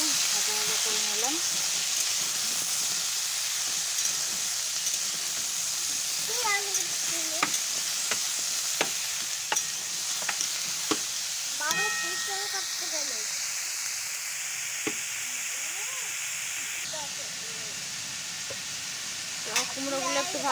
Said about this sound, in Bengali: কুমড়োগুলো একটু ভাজা ভাজা করে নিয়েছি।